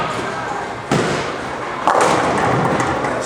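At a bowling tournament, two heavy thuds of a ball crashing into pins ring out with a clattering burst, set against the hum of the alley and people talking.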